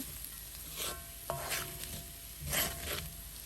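Clam fry is stirred in a pan, with a soft steady sizzle, a few scraping swishes of the spoon and a brief clink against the pan.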